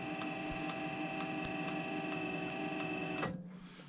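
Wood-Mizer LT35 portable sawmill head raised to 31 inches, giving a steady mechanical motor whine with a fixed tone and faint rhythmic ticking, close and constant, then stopping abruptly near the end, leaving quiet background.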